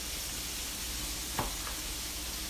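A little oil heats in a skillet for frying green tomatoes, giving a steady, even sizzling hiss close by with one brief pop or clink partway through and no voices.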